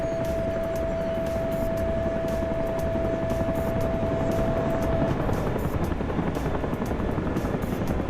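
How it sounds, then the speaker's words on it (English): A Chinook helicopter in a video game roars past in a continuous heavy rotor drone with a steady high whine that cuts out partway through, loud and unbroken, with no speech. "There's our Chinook."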